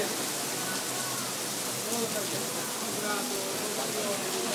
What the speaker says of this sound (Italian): Vedete che pioggia?